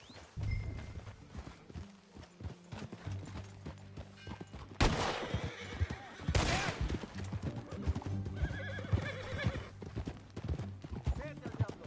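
A horse whinnies loudly twice amid clip-clopping hooves in the video game Red Dead Redemption 2, with game sound effects and scattered background noise around it.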